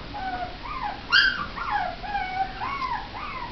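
A puppy whimpers in a series of thin, high, wavering cries, rising and falling close by with faint background hiss.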